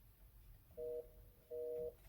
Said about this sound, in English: engaged type thing from a phone